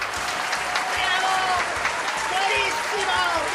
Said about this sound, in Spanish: permítanme levantarme y aplaudir